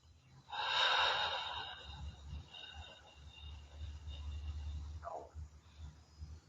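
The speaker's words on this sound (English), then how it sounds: "And now slowly exhale." A slow deep exhale during a morning yoga meditation, a breathy airy rush of breath that swells then fades over a couple of seconds, followed by quiet room tone and a faint short sound near the end.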